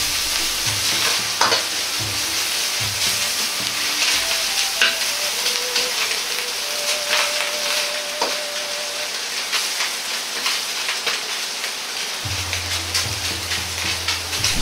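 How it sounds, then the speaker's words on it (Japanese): Minced pork stir-fried hard in an oiled pan for salt-seasoned mapo tofu, broken apart with a ladle: a loud, steady sizzle runs throughout, with scraping stirs and clinks from the utensil, no voices. "ここでひき肉をしっかりと炒めることで、臭みがなく食感のいい肉になります"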